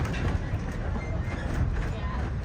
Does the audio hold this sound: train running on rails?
yes